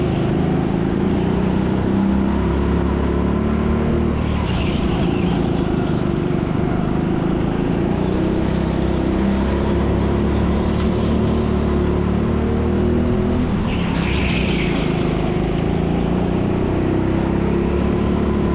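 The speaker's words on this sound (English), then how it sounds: "I struggle to stop the car as the red flag appears on the high-speed slippery corner." Go-karts race around an indoor TeamSport track in Leicester, making a continuous loud engine drone with swells as karts accelerate and pass nearby.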